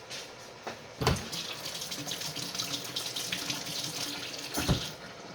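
Water runs steadily from a kitchen tap while a finger is rinsed under it during a Christmas cooking party, a continuous splashing hiss with two brief louder bumps.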